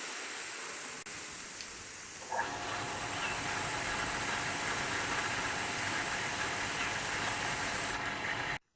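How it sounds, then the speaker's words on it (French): A 900-watt electric water pump motor starts automatically when water is drawn. After a short faint stretch it switches on with a jump into a steady loud hum and hiss, then cuts off sharply at the end. "Le moteur se met automatiquement en route lorsqu'on puise de l'eau."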